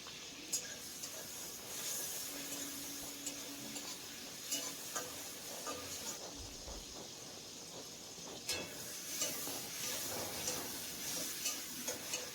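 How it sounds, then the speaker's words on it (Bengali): Tomatoes frying in a pan for a taro curry, giving a soft, fairly quiet continuous sizzle with occasional light stirring clicks and scrapes. "এখন এই টমেটোটাকে 2 মিনিট ভেজে নেব"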